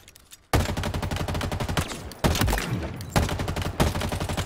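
Sustained bursts of assault rifle fire in Halo Infinite, loud and close, coming in several long rapid volleys with brief gaps between them, with almost no talk.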